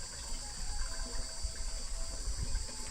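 Water pours steadily from a village water source as a container is filled, a continuous close splashing gush with a constant high hiss running throughout and no voices.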